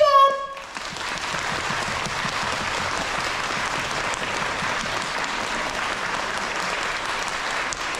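Loud applause from a hall audience at a civic event in Kadoma, Osaka, a brief burst of clapping rising after a short pause and then holding steady and dense for several seconds.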